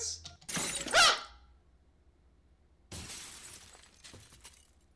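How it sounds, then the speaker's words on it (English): Glass shatters as a sound effect in a visual novel game, a sharp crash with tinkling fragments, followed by a second, softer burst of breaking noise a couple of seconds later. "Of like glass shattering and stuff."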